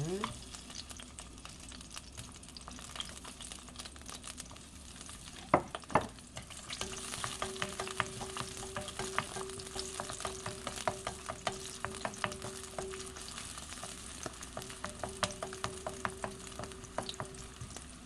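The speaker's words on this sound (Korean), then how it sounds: "식용유 반 스푼, 들기름 반 스푼 넣고 네, 마늘 먼저 볶아줄 거예요" Garlic frying in a half spoon of cooking oil and a half spoon of perilla oil, a soft continuous sizzle with crackling pops and a stirring clatter partway through, heard close but fairly quiet.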